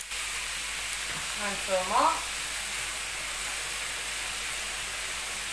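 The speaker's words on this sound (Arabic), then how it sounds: "هانتوما كما كتشوفوا عليها المقله راها كبيره. درت فيها الفريت ديالي" Potato fries sizzle in oil in a large pan, a steady close frying hiss running throughout while a voice talks briefly over it in the middle.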